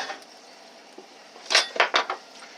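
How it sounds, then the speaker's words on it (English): Ghee butter scooped out with a utensil and dropped onto a pan: a quiet stretch, then a quick cluster of four or five light metallic clinks and knocks, close by. "this is what I scoop out my ghee butter with and put it on the pan"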